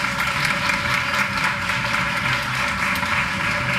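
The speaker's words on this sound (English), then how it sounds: "Let's give her a big round of applause." Steady applause from a crowd at a teacher of the year ceremony, a dense wash of clapping that holds at an even level without pause.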